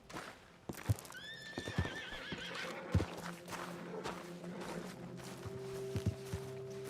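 A horse in Red Dead Redemption 2 lets out a loud, wavering whinny up close. Steady clip-clopping hoofbeats and footsteps carry on beneath and after it.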